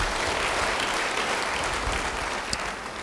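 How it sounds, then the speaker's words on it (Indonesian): A church congregation claps together in a sustained burst of applause, a dense, moderately loud patter lasting the whole stretch with no speech. "beri tepuk tangan yang baik bagi dia."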